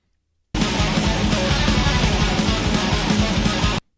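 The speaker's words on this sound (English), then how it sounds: "there's All Hail the Goat, which sounds like this" A burst of fast, dense extreme metal, Hellripper's All Hail the Goat, cuts in loud and abrupt after a short silence, with pounding low drums and distorted guitars, then stops just as suddenly.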